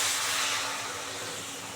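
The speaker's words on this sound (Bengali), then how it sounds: "এই যে এবার অল্প করে গরম জল দিয়ে দিচ্ছি।" Hot water goes into a pan of cooked-down potol and prawn curry, giving a steady, loud steamy hiss and spray that fades slightly over a couple of seconds, with no talking.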